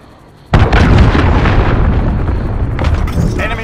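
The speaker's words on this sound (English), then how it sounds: "Missile incoming!" A missile explosion in Call of Duty Modern Warfare: a sudden loud blast after a brief quiet moment, followed by a long rumbling, crackling decay and scattered debris noise, close and heavy.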